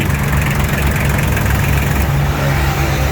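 An 18-horsepower three-cylinder Kubota L1 tractor with manual gearbox idles steadily, a loud, close, even diesel chug that continues throughout with no voices.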